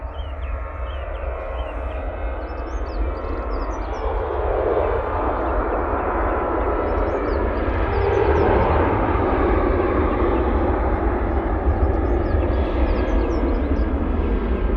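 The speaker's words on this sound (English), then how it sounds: "That TUI, I think, is on the roll." A TUI airliner starts its takeoff roll in fog at Manchester Airport, a steady broad engine roar that swells partway through and then holds loud and continuous, with no talk over it.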